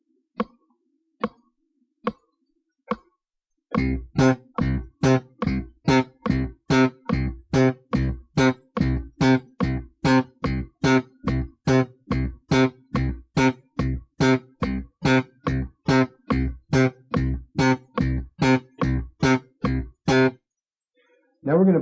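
Four soft metronome clicks count in before slap bass starts a long, steady run of short staccato notes in even time, each note damped quickly, close and punchy, with one last stroke after a brief pause.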